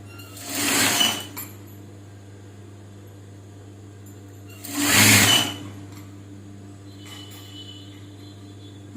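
A tailoring sewing machine stitching a hook onto a blouse in two short whirring bursts over a steady low electrical hum, quiet between the runs.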